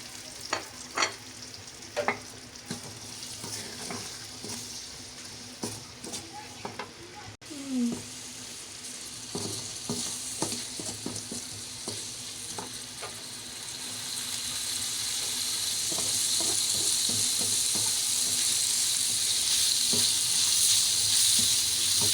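Onions go into oil left over from frying okra. Clicks and stirring come first, then the sizzle swells into a loud, steady hiss that keeps building toward the end.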